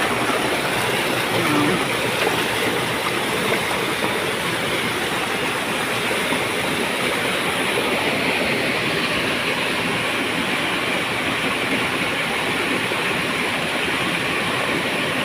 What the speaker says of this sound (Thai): ป็นน้ำตก ได้ยินเสียงแล้วเลยมาเยี่ยมเบิ่งเนาะนะ